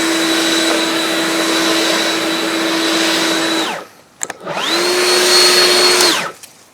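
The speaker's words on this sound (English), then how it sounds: "Yep, it's a great blower." A Stihl BGA 100 battery-powered commercial leaf blower runs loud and close with a steady whine, spins down, briefly falls quiet, then revs back up to full speed before cutting off.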